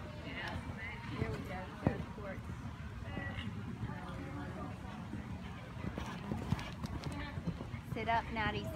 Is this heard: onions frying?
no